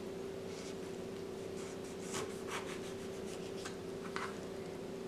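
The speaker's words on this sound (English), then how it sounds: "I am going to cut a lime in half." A knife cuts a lime into quarters on a cutting board, giving quiet rubbing, scraping strokes with a few soft taps, close and alone over a steady low hum.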